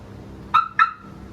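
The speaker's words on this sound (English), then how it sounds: "I hate this alarm so much." A car alarm on a Camaro gives two short, bright chirps in quick succession, fairly close, against a quiet background.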